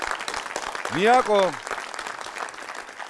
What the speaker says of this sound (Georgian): ამას ეხლა რო ტაში ჭირდება ხომ იცით?